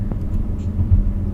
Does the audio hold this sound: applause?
no